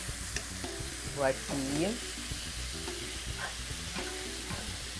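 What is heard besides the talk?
stirring thickening shoyu sauce with cornstarch for yakisoba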